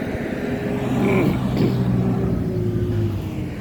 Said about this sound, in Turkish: Tam da zamanı traktör geliyor.